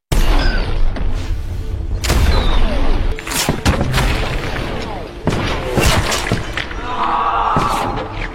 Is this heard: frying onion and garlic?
no